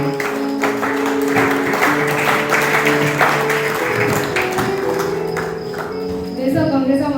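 A church congregation claps together during a worship service, a thick, sustained patter of many hands that runs for several seconds, blended with sustained voices or musical tones underneath.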